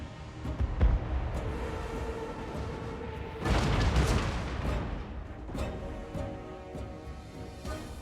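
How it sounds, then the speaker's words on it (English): Cannons booming across a Total War fantasy battlefield, a heavy blast and rumbling roar standing out from scattered distant shots and steady battle noise. "cannons do a good chunk of damage and actually knock you down if they hit"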